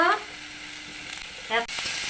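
Spices with turmeric, salt and bay leaf fry in a wok with a steady close sizzle, while brief voice fragments rise at the start and again near the middle.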